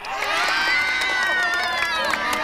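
Crowd at a town plaza fiesta cheering and shouting to pick a contest winner, a sustained wash of mixed voices and children's yells, fairly loud and unbroken, with scattered sharp sounds that may be claps.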